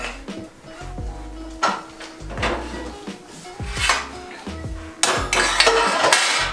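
Dishes being washed after a dove pot pie goes into the oven: pots, pans and cutlery clatter and clink almost without a break, with running water and rattling through the whole stretch and a loud scrape near the end.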